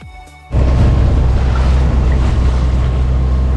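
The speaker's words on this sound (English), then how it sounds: "we are motoring right now because the wind is really low, and we are motoring for now" A sailboat motors under engine power at sea off the San Blas Islands in Panama in light wind. After a quiet first half-second, a loud, constant engine drone and rushing water start and continue steadily.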